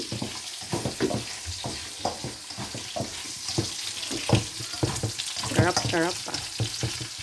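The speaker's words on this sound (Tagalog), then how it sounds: "Lagyan na natin bawang sibuyas." Garlic and onion sauté in a pan for pancit with a steady, close sizzle and frequent stirring scrapes. A voice speaks briefly near the end.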